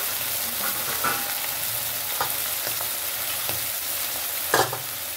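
Prawns fry in leftover oil, a loud continuous sizzle close by with scattered scraping stirs and one sharper knock near the end, no one speaking.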